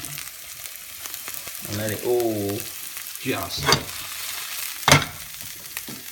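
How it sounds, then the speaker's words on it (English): Chopped mushroom frying in a home kitchen pan, a steady soft sizzle beneath a voice, with a few clattering stirs and a sharp utensil knock near the end. "Shove that into the frying pan as well."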